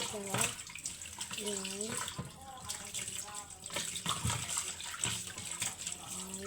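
Water pours from an outdoor tap into a container holding some ice, a steady splashing flow under a voice talking.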